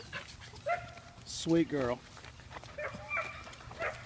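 Young Stockhaar puppies whimper and yip in short, high cries close by, under and between a person speaking softly.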